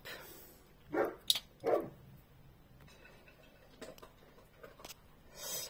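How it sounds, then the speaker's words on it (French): A dog barks a few times in a quiet room, two distinct sharp barks close together, then scattered faint thumps and a brief rustle; no voices are heard. "c'est que mon chien a aboyé"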